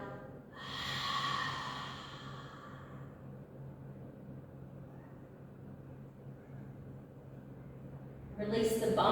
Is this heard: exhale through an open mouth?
yes